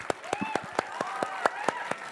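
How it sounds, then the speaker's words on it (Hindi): Applause for a speaker at a Hindi TV studio debate on Bihar politics comes from a small group of audience members, a steady run of sharp, evenly spaced claps rather than a full crowd, with a faint voice underneath. "कुछ सफेद गमछे वाले भी हैं जो आपके लिए ताली बजा रहे हैं"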